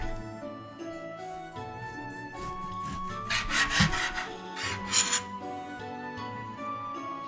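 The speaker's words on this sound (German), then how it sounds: "Schweinerücken in Scheiben schneiden." A knife saws back and forth through pork loin on a wooden board, a soft rubbing rasp, with quiet music playing underneath.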